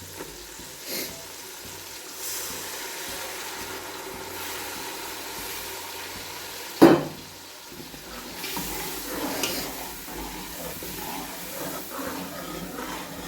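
Tomatoes with chilli, turmeric, coriander powder and garam masala frying in oil, giving a steady soft sizzle and hiss with occasional stirring scrapes and one sharp clatter midway.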